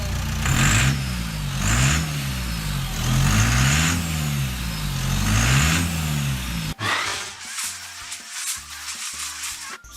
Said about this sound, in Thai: เบิ้ลเบิ้ลดูพี่ เบิ้ลดู